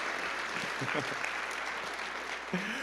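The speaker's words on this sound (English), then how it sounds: "let's give another round of applause for Chance Strickland." Steady applause from a conference audience at a React developer event fills the room, a dense continuous patter of clapping with a few brief voices mixed in.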